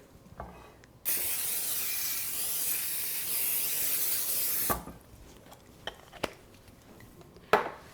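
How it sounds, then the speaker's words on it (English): Cooking spray hisses steadily from an aerosol can onto a casserole dish for about four seconds, followed by a few sharp clinks of cookware in a quiet kitchen. "Next thing we're going to do is grease the casserole dish. I'm just going to use spray."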